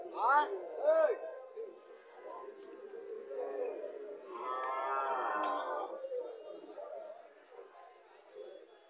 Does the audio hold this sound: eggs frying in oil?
no